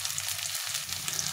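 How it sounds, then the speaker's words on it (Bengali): Unpeeled potatoes fry in oil in a pan, making a brief, steady close-up sizzle with a bright, hissy texture. "আলুটা ভাজা হচ্ছে"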